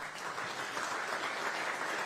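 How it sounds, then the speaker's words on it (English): A short burst of steady applause from a crowd at a city innovation and technology event, evenly loud from start to finish. "A round of applause for L3 Harris Technologies."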